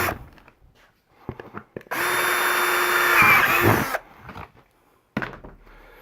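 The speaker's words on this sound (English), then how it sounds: "We want to drill 4 holes, 1 in each corner" A power drill whirs loudly for about two seconds, drilling a corner hole for a jigsaw blade while making a worm bin, winding down, surrounded by quieter knocks and handling sounds before and after.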